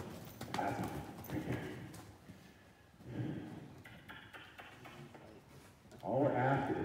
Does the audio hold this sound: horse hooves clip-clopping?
yes